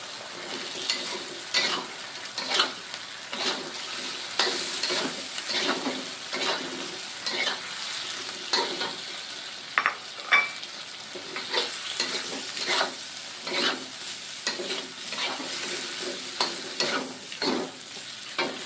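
Shrimp sizzle and fry in a hot pan while being stirred, with steady crackling and repeated scraping strokes of a utensil against the pan throughout, fairly close and clear, no voices.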